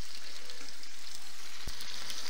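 Stuffed carp frying in an open pan, a steady close hiss and sizzle of hot oil running the whole time, with one sharp tap partway through and no voices.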